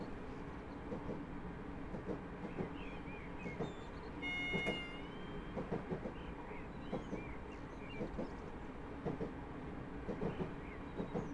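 A Class 313 electric multiple unit rolling along the rails in Britain, a steady low rumble with repeated soft clicks of wheels over rail joints and a brief high whine partway through, heard from inside the train without talk.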